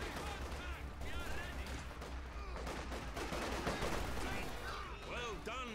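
Chaotic machine gun fire and battle noise from the WWII strategy game Company of Heroes 2, rattling continuously beneath overlapping voices and game chatter.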